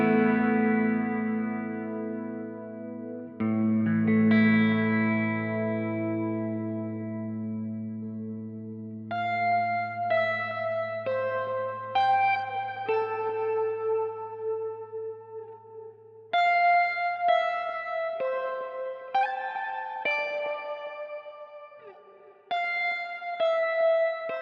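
Clean electric guitar notes and chords through a Zoom MS-50G multi-effects pedal, shimmering with chorus, pitch-shifted doubling and long reverb tails, some notes ringing out alone before quicker picked phrases.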